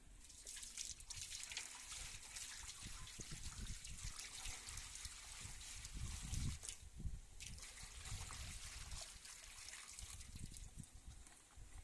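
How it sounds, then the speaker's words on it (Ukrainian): Water poured off settled starch into a bathtub, a steady trickling and splashing stream running throughout, fairly close and continuous with no talk. "Так, зливаємо решту в ванну."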